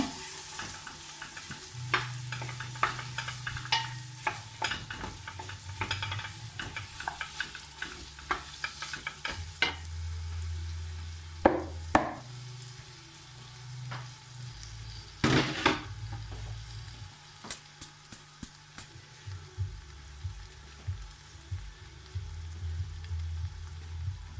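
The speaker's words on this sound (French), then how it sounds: "Quand c'est beurre est fondu avec l'huile, vous versez les oignons émincés avec l'ail. Vous faites dorer" Sliced onions and garlic fry in melted butter and oil, a soft continuous sizzle broken by repeated sharp scrapes and clacks of a utensil stirring the pan, no voices.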